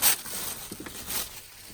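Paper or tape being ripped off a page in a sewing-themed craft journal, a brief close tearing burst followed by a couple of soft, short rustles.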